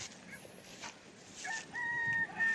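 Chickens and chicks on a farm, with soft clucks and high thin peeping from the chicks, rising in the second half, close by with faint background noise.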